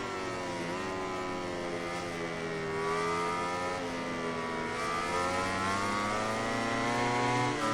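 A Yamaha racing motorcycle in the game MotoGP 19 gives out a continuous engine whine that rises and falls through gear changes, with a second bike's engine faintly alongside. No one speaks.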